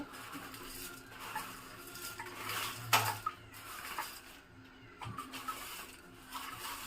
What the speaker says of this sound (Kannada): ಇವಾಗ ಹಾಕ್ತೀನಿ ಕುದಿಯೋದಕ್ಕೆ ತಿರು ಬಿಟ್ಟು ಹಾಕ್ತಾ ಇದ್ದೀನಿ ಮ್ಯಾಗಿನ